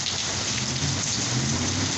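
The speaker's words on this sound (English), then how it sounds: "That's how hard it's raining now." Heavy rain in Florida pours down in a dense, unbroken roar, loud and close, with no voices.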